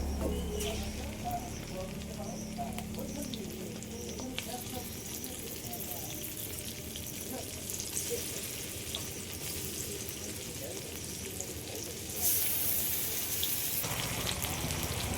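Spice-marinated fish, a freshwater fish called bele, frying in a pan in a home kitchen, a steady broadband sizzle running throughout with a brief louder burst near the end.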